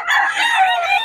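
A rooster crows at a gamefowl market, one bright, drawn-out call held steady for about a second, loud and close with no talk over it.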